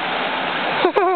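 Floodwater pours out of a street drain in a steady, loud rushing roar during a flood, with a voice briefly cutting in near the end.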